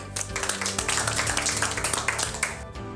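A group of wildfire firefighters claps together after a training briefing, a dense, steady burst of hands close by that runs for a few seconds over a low tonal background.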